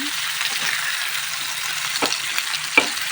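Paneer pieces frying in a pan until lightly golden, a steady soft sizzle running throughout with a couple of brief clinks or scrapes near the end; no one speaks.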